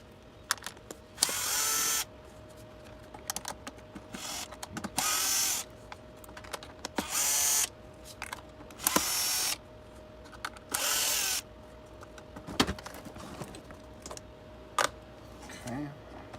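A power driver whirs in repeated short bursts while removing screws from a Tineco Floor One S3 cordless vacuum, its ratcheting buzz alternating with clicks and handling noises, up close, between brief pauses.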